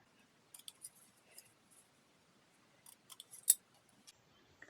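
Scissors snip the hanging loops off IKEA towels in a quiet room, a handful of small, crisp cuts spaced unevenly, close and soft.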